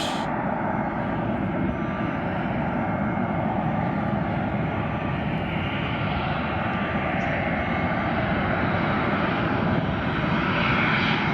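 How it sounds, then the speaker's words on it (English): A JetBlue airliner from Salt Lake City touches down on runway 24 Left at LAX, a loud, steady, broad engine roar that holds throughout, heard from nearby without talk. "This 706 Juliet Bravo touching down in LAX, 24 left."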